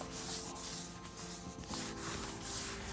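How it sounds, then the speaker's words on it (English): A sanding pad worked by hand along the edges of an epoxy resin dining table gives close, continuous scratchy rubbing in even back-and-forth strokes, with no one talking. "I like to remove my sanding pad off the backer to hit the edges so I don't over sand."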